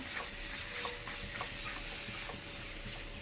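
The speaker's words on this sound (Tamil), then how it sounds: "இப்போ இதையும் போட்டு இதில் நல்லா வதக்கிக்கலாம்" Okra stirred and sautéed in a masala for a Tamil-style bindi curry, giving a steady low sizzle with soft scraping stir strokes at a modest level, no talk.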